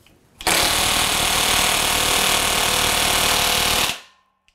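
An impact wrench run in reverse on a Skidmore Wilhelm T-3000 torque tester hammers continuously at close range, a loud, dense rattle holding steady for about three and a half seconds before cutting off.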